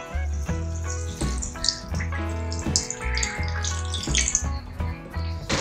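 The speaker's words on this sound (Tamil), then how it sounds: "இப்போ கரைச்சி வச்சிருக்கிற புளி தண்ணியை வந்து இதில் சேர்த்துக்கலாம்" Tamarind water pouring and splashing into a pot of turkey berry gravy in several bursts, with a gurgling, running-water sound close by.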